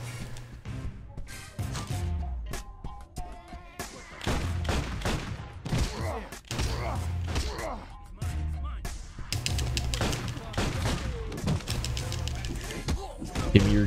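Gunfire in the video game Final Fight Streetwise, dense bursts of loud shots and thuds packed together over game music and effects, with a voice speaking in places.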